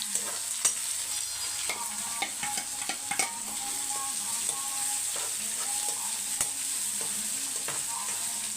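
Sliced big onions frying with curry leaves and crushed garlic in hot oil, a steady near sizzle with regular spoon clinks and scraping against the pan, no talking.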